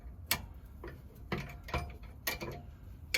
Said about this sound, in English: And this is that bolt that we got to hand crank